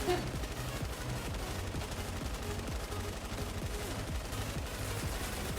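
Sustained rapid gunfire from the Fortnite Save the World video game, a steady machine-gun rattle with no let-up.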